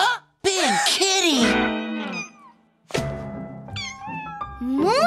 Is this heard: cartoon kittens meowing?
yes